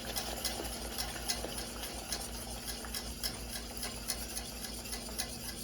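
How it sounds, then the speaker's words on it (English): Heavy cream is stirred into toffee sauce in a pan, giving faint, steady, rhythmic ticking strokes over a soft background hum and low sizzle, with no talking. "We're gonna make sure we're stirring this while we're adding it."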